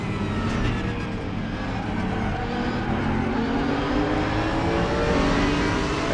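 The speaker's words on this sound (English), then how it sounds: "the sounds of this V10 engine are excellent" A Lamborghini V10 DTM race car engine in the game RaceRoom roars steadily and loudly throughout at Zandvoort, its pitch rising gradually as it accelerates, with faint sounds of other cars nearby.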